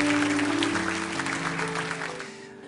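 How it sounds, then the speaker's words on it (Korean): A church congregation applauds during a Korean Sunday service, with steady, full clapping over sustained organ-like tones that fades out at the end. "우리 한 번 더 마음을 담아서 존경을 담아서 큰 박수로 축복합니다"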